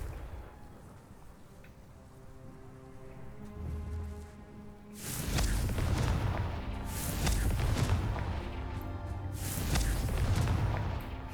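Confringo blasting-spell explosions in the video game Hogwarts Legacy, with a quieter stretch before a sudden loud burst and several booming, crackling blasts in close succession.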